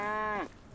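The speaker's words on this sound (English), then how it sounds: "here's some of my cows" A cow in the medieval farming game Medieval Dynasty gives one short, clear moo that bends downward at its end, heard alone and fairly close.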